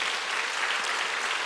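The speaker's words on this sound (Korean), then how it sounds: "방송실 박수 한번 더 쳐줘요." Church congregation applauding at a revival meeting, a steady wash of clapping filling the whole short stretch at moderate level with no voices over it.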